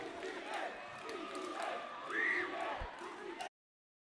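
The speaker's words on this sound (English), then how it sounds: "The crowd exuberant for Seahawks free throw" A crowd cheers and shouts at a varsity boys' high school basketball game, LASA Raptors at McCallum Knights, during a free throw. The roar is sustained and swells briefly, with a whoop and voices mixed in before it cuts off.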